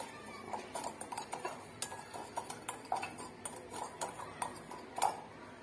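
A mixing bowl being set down and handled in a home kitchen while preparing dough for savory pastries, giving a series of sharp, close clinks and taps at an irregular rhythm, with no talk.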